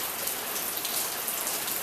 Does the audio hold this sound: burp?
no